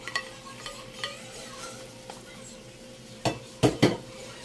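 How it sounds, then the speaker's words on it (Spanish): Half a large onion and two crushed garlic cloves saute in a pan, giving a low steady sizzle with a few light utensil taps early and three louder clanks of spoon against pan near the end. "Y aquí mismo vamos a guisar la cebolla."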